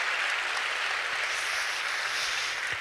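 A concert hall audience applauds at a jubilee concert honouring composer Arno Babadzhanyan's 95th anniversary. The clapping is a dense, sustained wash from a large crowd, steady and moderately distant, with no voices over it.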